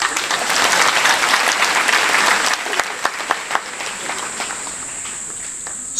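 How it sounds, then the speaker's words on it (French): Applause in a church during a Mass, full and dense at first, then quickly thinning to a few scattered claps and murmurs with a faint high-pitched hum in the room. "On va l'applaudir pendant qu'elle dise."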